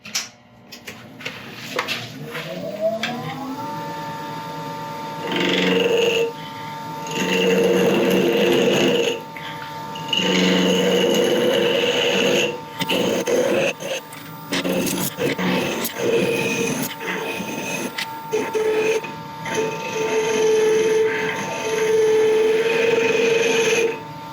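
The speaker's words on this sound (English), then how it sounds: "Right, I'll get this round first of all with a skew." A wooden spindle blank is rounded on a lathe with a skew chisel, heard as bursts of scraping, hissing cutting over the steady whine of the spinning lathe, with short pauses between passes.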